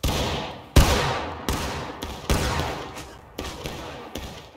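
Company musket volleys boom from a Civil War battle in the game War of Rights: a ragged run of loud close gunshots, each with a sharp crack and a long echoing decay, five or six bursts in quick succession.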